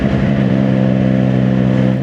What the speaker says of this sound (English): Very torquey engine, this one.